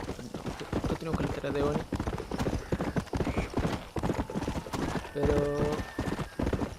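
Horse hooves clip-clop steadily in Red Dead Redemption, a close rhythmic trotting that runs throughout, with a brief whinny, while someone talks over it.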